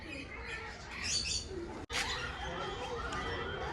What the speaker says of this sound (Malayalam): പല ടൈപ്പ് പ്രാവുകളാണ് മയിൽപ്രാവ് അങ്ങനെ കുറേ ടൈപ്പ് ഉണ്ട് കേട്ടോ